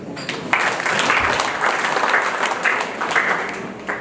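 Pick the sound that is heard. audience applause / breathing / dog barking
audience applause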